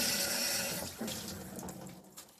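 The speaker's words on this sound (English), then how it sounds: "I'm just going to give them a good rinse, and I will use warm water to make sure that any of that lingering residue is coming out." Cloths being rinsed under warm water from a tap, a steady close rush of running water over fabric with splashy shifts partway through, alone without talk.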